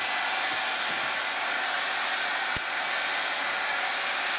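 A hair dryer set on a slow but hot setting blows steadily and loudly while hair is being styled, a continuous even rush with one brief click partway through.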